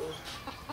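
A hen in a yard in The Gambia gives a few short clucks, close and fairly faint, set against a soft outdoor background.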